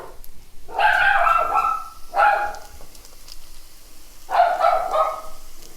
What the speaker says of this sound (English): Dogs don't have any discretion when it comes to when they're going to bark at the delivery boy across the street.